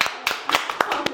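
Several separate hand claps, sharp and fairly close, come in an irregular rhythm from a small group cheering someone at the end of an object-finding game.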